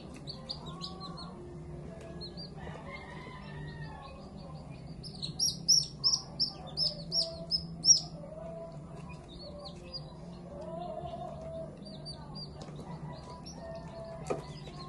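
Newly hatched yellow-legged baby chicks peep in a quiet setting, with a run of faint, high chirps clustering into a brief louder burst midway before settling back to sparse cheeps.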